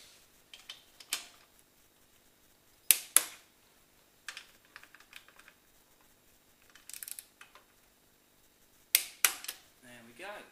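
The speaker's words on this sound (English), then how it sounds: "everything on the bike is torqued up" Bolts being torqued up on a bicycle, heard as scattered sharp clicks and clatters of the torque wrench and tools in short bursts, fairly quiet with pauses between.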